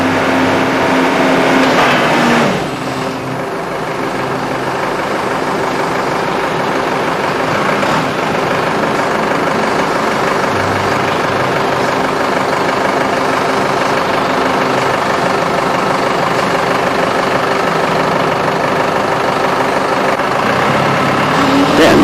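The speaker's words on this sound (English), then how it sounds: "The next item is to check the lifting speed with the forklift placed flat on the ground at the start." A Toyota forklift engine runs steadily while the forks lift with no load, a loud, continuous mechanical drone with a low rumble that holds for the whole stretch, with a brief dip in level early on.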